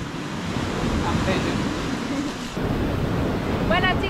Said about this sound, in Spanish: Estas olas están pero fuertes.